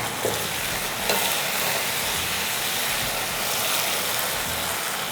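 Drumstick pieces frying in oil with mustard seeds and curry leaves, giving a steady, even sizzle throughout with occasional faint stirring sounds and no talking.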